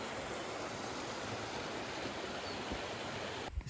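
A river flows far below a forest trail with a wooden guardrail in Queen Elizabeth Forest Park near Loch Lomond, a steady faint rushing wash heard alone with no talking.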